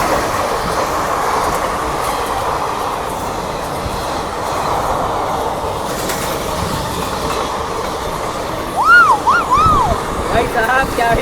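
Trains on the Ahmedabad to Borivali line rumble past each other at a crossing, giving a loud continuous roar with clattering wheels and a few squeals near the end, while someone speaks over it.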